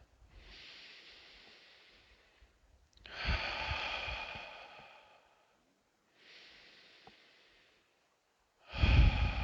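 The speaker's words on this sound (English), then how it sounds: "A few more breaths." Slow, deep breaths during a guided meditation, four long airy inhales and exhales of alternating strength, soft and close with silence between them and no talking.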